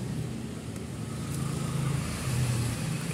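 A Kaisar Ruby 1400cc car engine warms up nearby. The low rumble is steady and fairly quiet, with slight swells in pitch, under a wash of background noise.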